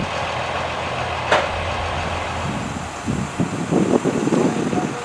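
A truck loaded with roller coaster track idles with a low, steady engine rumble at the Mako coaster construction site at SeaWorld Orlando, where a crane offloads track. Wind buffets the microphone and voices talk in the later half.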